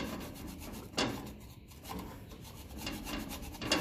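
Wire brush scrubbing a metal part on a Massey Ferguson 35 tractor, a steady close raspy rubbing with a few sharper strokes, heard alone with no talk.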